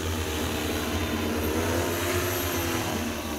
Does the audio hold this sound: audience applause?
no